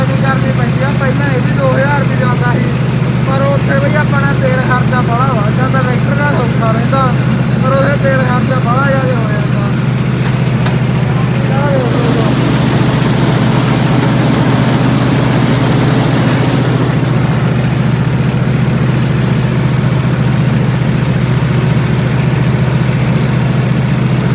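A tractor engine idles steadily and loudly up close with a deep, constant rumble, with a burst of hissing noise partway through and no talk over it.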